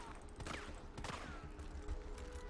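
A PP cannon fires in Resident Evil 3 as Nemesis is fought, giving several loud, bursty gunfire-like blasts over a dense game soundscape for about two and a half seconds.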